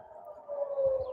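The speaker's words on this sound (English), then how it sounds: "a siren is going off right now" An air raid siren sounding in Israel, a steady wailing tone heard from a distance, faint and continuous with low rumble beneath it.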